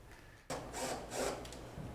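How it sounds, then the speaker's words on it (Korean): Sandpaper rubbed by hand across a wooden table, a steady scratchy rasp in several broad strokes, fairly close and moderately loud with no talk. "사포로 매끄럽게 다듬습니다"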